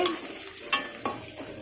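Onions and green chillies sauté in a pan for paneer rice, with a continuous soft sizzle and a couple of sharp stirring scrapes close by.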